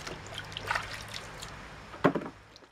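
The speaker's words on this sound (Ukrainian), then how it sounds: "Тому їх потрібно гарно вимити" Apples being washed in water, with soft sloshing, trickling and dripping, then a brief louder splash near the end, all fairly quiet and close.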